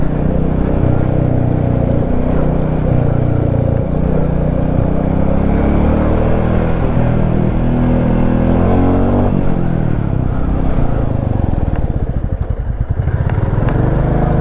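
Several motorcycles rolling downhill on a mountain road, engines droning loud and continuous up close, the pitch shifting and dipping near the end as the bikes slow and change gear.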